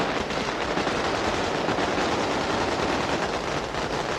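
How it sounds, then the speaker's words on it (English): Dense, continuous gunfire from weapons shot into the air, a rapid crackling barrage of many overlapping shots heard at some distance, steady with no pauses. "To the noise of shooting in the air, the convoy moved for a half hour into the port area."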